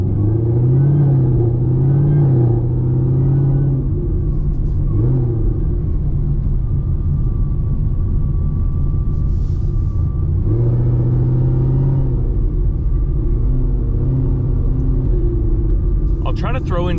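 A cammed Camaro ZL1 1LE fitted with an MPI supercharger lid drives along with a loud, steady engine rumble throughout and a thin supercharger whine rising over it in the middle stretch.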